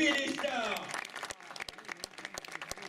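Applause for a cycling rider at a race jersey ceremony follows a loud tonal sound that fades early on, leaving a sparse patter of individual claps with voices in the background.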